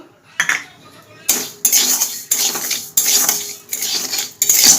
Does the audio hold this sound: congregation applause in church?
no